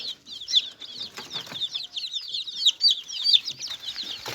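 Constant high-pitched peeping of many chicks with occasional clucks from hens in a coop, a busy, chattering chorus at close range with no talking.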